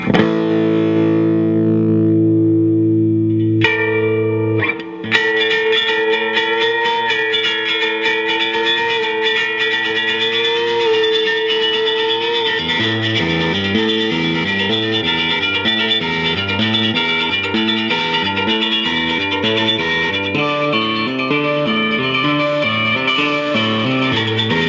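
An original 1965 Fender Jazzmaster on its bridge pickup plays through overdrive and reverb: sustained chords ring out, then a driving, rhythmic run of picked notes continues loud and steady to the end.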